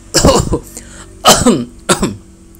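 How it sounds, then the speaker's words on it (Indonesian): Someone close by coughs in three separate hacking bursts with short pauses between them, loud and rough, with no other sound around. "katanya sambil batuk-batuk lagi"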